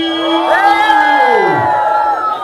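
An audience shouts and cheers loudly and continuously, with rising and falling whoops and yells blending into one big crowd roar up close.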